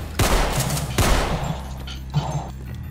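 Gunfire from shotguns and sniper rifles in the video game Decaying Winter, two loud blasts with ringing tails followed by a fainter shot, backed by a steady hum of game sound.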